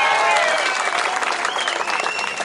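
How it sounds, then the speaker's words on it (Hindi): Audience applause at a Congress political rally in India, a dense steady clapping crowd heard close and loud, with a voice speaking over it throughout. "ठोको ताली"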